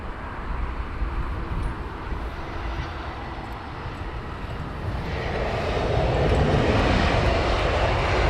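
Aircraft arriving at Heathrow runway 27R, a steady jet engine roar that grows louder and broader as the plane comes closer.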